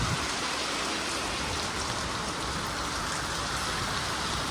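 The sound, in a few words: rain falling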